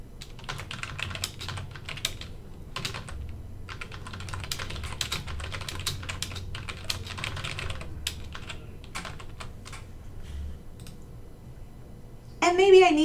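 Light, quick keystrokes patter on a computer keyboard in irregular bursts, faint and close, with a short sound at the end.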